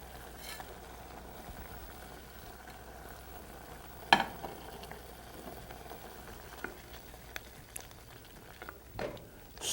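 Tomato chutney with brown sugar and salt simmering in a pan, a soft steady sizzle and bubbling with occasional faint clinks and scrapes as it is stirred, quiet throughout.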